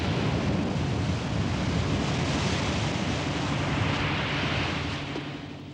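Stormy wind roars against a sailing boat with waves at sea in a Patagonian channel. The broad, steady rushing noise stays loud and constant, then eases slightly near the end.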